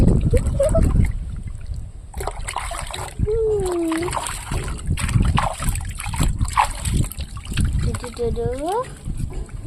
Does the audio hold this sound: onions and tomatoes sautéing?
no